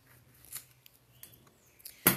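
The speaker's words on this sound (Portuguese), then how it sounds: "aqui eu vou cortar o excesso" Scissors trimming excess EVA foam on a snowman-in-a-cup craft, with a few soft snips followed by a sharper, louder final cut, close to the microphone with no talk.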